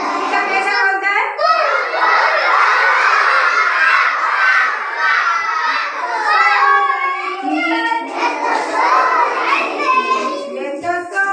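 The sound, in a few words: children imitating dog barking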